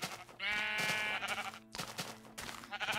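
Minecraft sheep bleat clearly and close by, one long quavering bleat followed by shorter repeated calls, loud over a faint game background with no voices.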